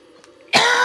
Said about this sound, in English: Cough excluded.